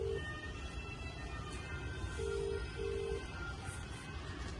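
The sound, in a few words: phone call ringing on speaker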